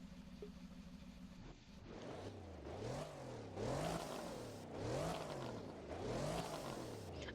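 Aston Martin DB12 engine revving in the Roblox game Driving Empire, a rising and falling engine note repeated in four or five regular rev cycles after a steady idle, fairly loud and close with no talk.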